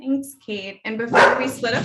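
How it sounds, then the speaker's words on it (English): A dog barks and yips a few times in the background of a home video call, the sharp calls overlapping with a person speaking. "that's my dog in the background"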